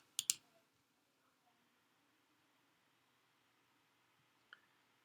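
Computer mouse clicks, a quick close pair of sharp clicks at the start and a single faint click a few seconds later, with quiet room hiss in between.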